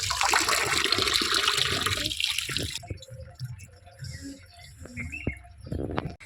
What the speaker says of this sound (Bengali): আমি পরিষ্কার করে মাছটা ধুয়ে নিচ্ছি